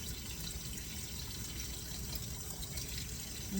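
Cold tap water runs steadily into a container as it fills, a continuous close splashing rush that holds even and unbroken throughout with no voices.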